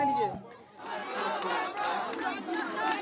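A crowd of protesters near Nabanna in Kolkata shouts in a dense, continuous roar of many voices, loud and close, with a brief dip early before the din rises again.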